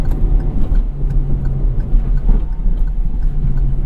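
A 2021 Kia Rio hatchback engine revs hard under acceleration, held in third gear near 6,000 RPM, making a loud, sustained droning hum with steady wind noise and no talk.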